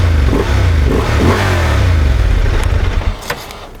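A 2023 Honda XL750 Transalp with an inline two-cylinder engine revs up close, a deep throbbing blip rising and falling loudly before dropping back to idle, with no talk.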